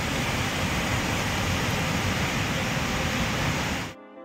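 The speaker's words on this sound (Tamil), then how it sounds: "அணையிலிருந்து சீரிப்பாயும் வெள்ளம்" Surplus floodwater gushes from the Kadana river dam in Tenkasi as a dense, constant roaring rush that fills the air, then cuts off abruptly near the end.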